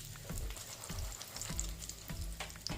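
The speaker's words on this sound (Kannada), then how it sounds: "ಇವಾಗ ಇದೇ ಜಾಗದಲ್ಲಿ ನಾವು ಕಡಲೆ ಬೀಜನ ಫ್ರೈ ಮಾಡ್ಕೊಳ್ಳೋಣ." Peanuts frying in oil over a medium flame, a steady close sizzle with soft scraping stir strokes recurring about every half second, no voices.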